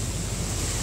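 Rough sea waves wash around a small boat on the way to Sharp Island, heard as a brief, steady roar of water and wind buffeting the microphone.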